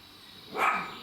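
A dog gives a single sharp bark indoors, moderately close, rising briefly out of quiet room noise with no talk.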